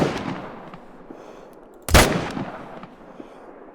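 A single loud M1 Iwaniec rifle shot in the hunting game theHunter: Call of the Wild cracks out sharply against quiet outdoor ambience, then fades in a short rolling echo.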